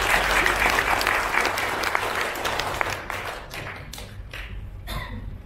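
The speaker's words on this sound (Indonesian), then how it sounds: "Beri tepukan gemuruh untuk Tan Sri." Thunderous applause from an audience at a PERKASA annual general meeting, honouring a Tan Sri: dense, loud clapping that fills the room, then thins out and fades over the last couple of seconds.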